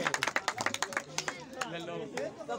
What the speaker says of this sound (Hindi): कप्तान शिरान के लिए तालियां।